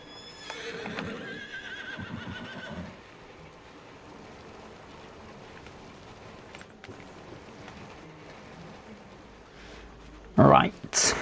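Horses in the Farming Simulator 25 video game give a whinny at the start and a louder burst near the end, with a soft watery ambience between and a speaking voice running underneath.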